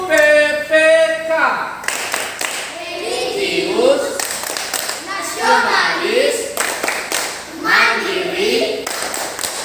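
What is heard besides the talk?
class doing rhythmic PPK clapping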